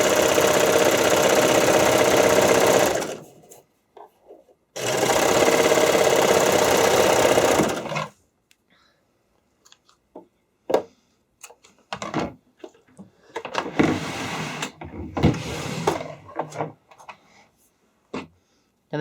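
Serger sewing machine stitching spandex elastic strap on the longest stitch length with neutral differential feed, two loud steady whirring runs of about three seconds each, then quieter handling clicks and fabric rustles.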